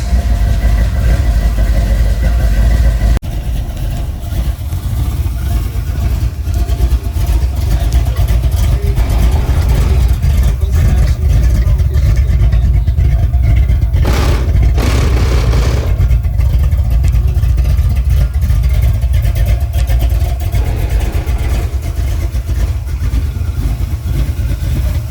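A box Chevy's engine rumbles steadily at idle with occasional revs swelling over it, a loud, continuous low throb running the whole time with no speech.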